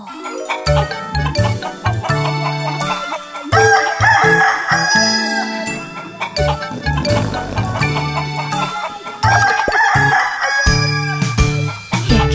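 Rooster crowing and hens clucking in a chicken coop in a children's cartoon, the calls repeating loudly over a bouncy nursery-rhyme music track.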